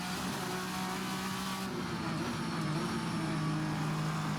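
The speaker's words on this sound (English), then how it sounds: "Nice sounds from the chassis as well as we're going over the curbing." A VRC Vendetta V60 race car's engine drones steadily in Assetto Corsa while the chassis rattles and clatters as it bumps over kerbs, with no voices.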